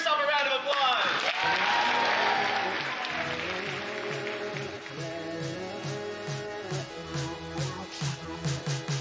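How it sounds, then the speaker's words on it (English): An audience at the opening ceremony of the first MLH datathon bursts into applause that fades under loud, rhythmic music with a thumping bass line. "Give yourself a round of applause."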